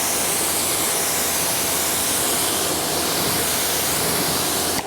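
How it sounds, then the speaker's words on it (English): Geon Wet Coat detailer is sprayed across matte car paint, a steady broadband hiss that runs loud and unbroken for nearly five seconds, close to the ear. "Geon Wet Coat here. All you do, come in here and spray it."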